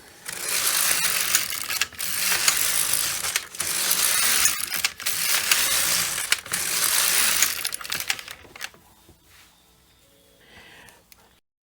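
Midgauge knitting machine carriage knitting rows of a Fair Isle cardigan, a loud mechanical rasping sweep in four long passes with brief clacks between, close up, then fading to quiet handling sounds.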